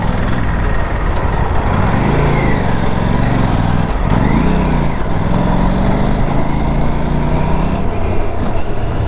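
An Aprilia RS457 motorcycle engine at a steady loud drone while riding, with pitch rising and falling through throttle changes under constant wind rush.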